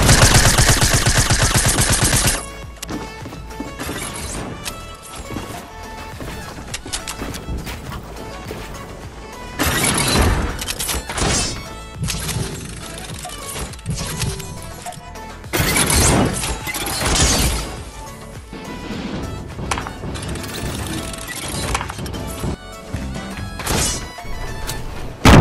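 C4 explosives going off in Fortnite, several loud bursts of blasts and crashing debris separated by quieter stretches of game noise, with brief voices in the background.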